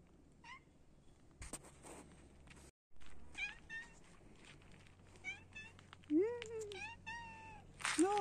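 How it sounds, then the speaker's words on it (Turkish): A stray cat outside a village house in Sinop, Turkey, gives several plaintive meows, some rising and drawn out. They come close by, mixed in with people talking to it. "İki gündür kedi geldi bizim evimizin önüne."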